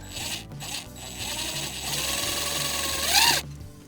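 A power drill whirs and grinds as a screw is driven into plastic gutter, the motor pitch rising and then dropping sharply as it finishes, close by, in rain.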